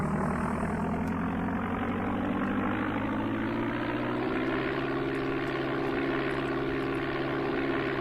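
Simulated propeller aircraft engine in the Amiga game Flight Simulator II, throttle raised: a steady droning buzz with a tone that climbs a step partway through, constant and fairly quiet, no talking.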